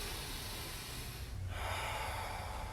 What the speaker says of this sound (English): very embodied, slow circular breathing